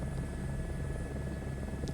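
A helicopter in Microsoft Flight Simulator 2024 hovers down toward a landing pad, a steady loud rotor and engine drone with a low pulsing throb and a high whine, continuous throughout.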